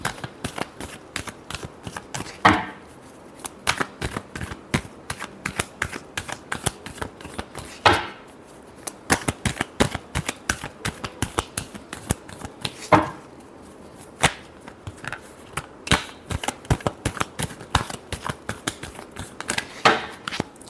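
A deck of tarot cards is shuffled by hand in rapid, crisp riffles and slaps, repeating steadily in close bursts with brief pauses between rounds.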